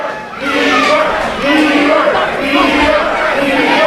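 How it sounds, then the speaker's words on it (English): A wrestling crowd chants mockingly at a wrestler, a loud, rhythmic mass of voices filling the arena, with a commentator's voice running over it. "Crowd chanting Bieber mockingly at Bostic."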